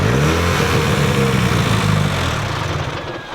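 An SR20-engined Mazda MX5 drift car with no oil pressure and a dried-up head runs loud and close, its engine chattering roughly at a fairly steady pace and easing off slightly near the end.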